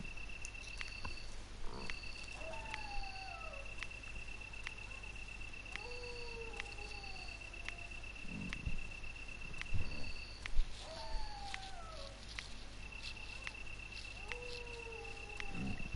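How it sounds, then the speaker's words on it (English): Crickets chirp steadily in the night ambience of the PS1 video game Resident Evil Director's Cut, while long, falling, wavering dog howls rise and fade several times over a low background rumble. "the crickets and the sound of the dog howling and walking."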